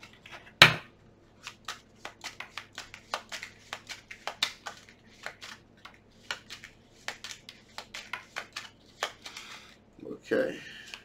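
Tarot cards being shuffled up close: a long run of quick, crisp riffling clicks in an irregular rhythm, with a louder snap near the start and a brief murmur of voice near the end.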